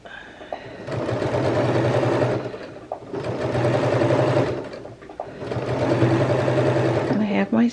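A home sewing machine stitches a fabric seam in three steady bursts of rapid whirring, each a couple of seconds long, separated by brief pauses, close and clear.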